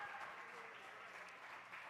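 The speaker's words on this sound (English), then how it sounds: "Please give a round of applause to Professor May Diane Andrade." Audience applause at a live university culinary cook-off, a steady wash of clapping from a crowd that holds even for the whole moment with no voices over it.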